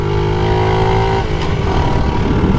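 A 1988 Honda Z50 minibike cruising, its small single-cylinder engine a loud, steady buzzing drone with a brief shift in pitch midway, close up with wind rush and no talking.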